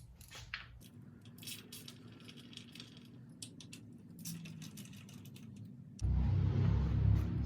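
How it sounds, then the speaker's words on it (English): Bolts on a Harley-Davidson primary inspection cover are unscrewed and pulled out, giving a metallic clink near the start, then small scraping and handling clicks up close, ending in a louder rumbling stretch. "First, I'm gonna pull out these 4 inspection cover bolts."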